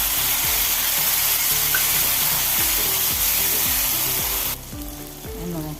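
Onion, ginger-garlic paste and tomato frying in hot oil for dalcha curry, a loud, continuous sizzle with repeated scraping strokes of a spoon against the pan; the hiss drops noticeably near the end.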